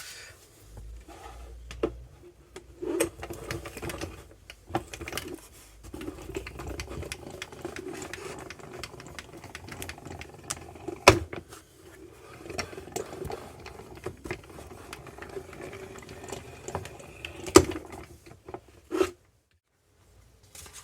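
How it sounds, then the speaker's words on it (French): A manual die-cutting machine cranks paper card through an embossing folder with C plates for cold embossing, producing a long, uneven grinding and rubbing rumble broken by occasional sharp clicks and knocks, close and moderately quiet. "je passe ça tout de suite dans ma machine de découpe"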